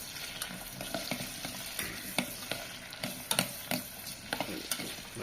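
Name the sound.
onions frying in oil and being stirred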